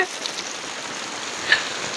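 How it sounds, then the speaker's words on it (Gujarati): A downpour on a village cattle stable makes a steady, even hiss of falling water with a couple of faint splashes and no voices. "અને ફૂલ ધોધમાર વરસાદ પડી રહ્યો"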